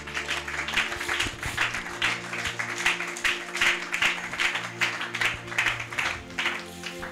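A church congregation applauds to acclaim Jesus, a dense, steady round of many hands clapping that carries on throughout at moderate volume.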